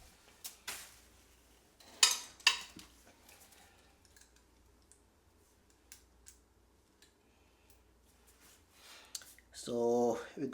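Metal sockets from a socket set clink and rattle as they are picked through and handled, in scattered sharp taps with quiet gaps and a louder clatter toward the end, with brief speech.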